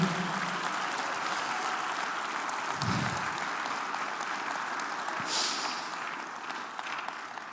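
A church congregation at an evangelistic service claps steadily and continuously, a broad wash of applause from many hands filling the room, with a brief low thump midway and a rising swell toward the end.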